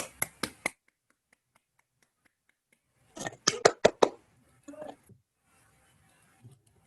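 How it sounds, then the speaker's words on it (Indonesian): An elementary classroom claps for a student in two short bursts of a few sharp, separate claps each, with quiet stretches and a brief voice between them. "Semuanya tepuk tangan."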